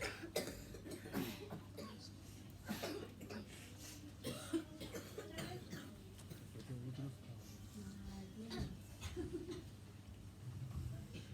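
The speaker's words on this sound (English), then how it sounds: "Enough of coughing now." Repeated coughing bursts scattered through the clip over a low steady hum, some coughs sharp and close, with faint murmuring in the background.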